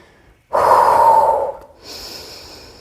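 A strong, close breath during a Pilates glute kick-back: one forceful exhale of about a second, a short pause, then a softer, airy inhale.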